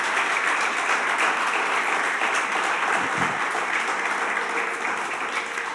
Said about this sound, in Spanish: ¿Por qué no le das un aplauso al Señor en esta mañana?